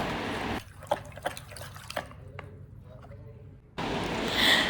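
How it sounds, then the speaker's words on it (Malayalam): Water trickles and splashes into a container of mothball solution in short bursts, followed by a louder, steadier rush of liquid near the end. "ഇതിലേക്ക് രണ്ട് ലിറ്റർ വെള്ളം കൂടെ ചേർക്കാനുണ്ട് കേട്ടോ"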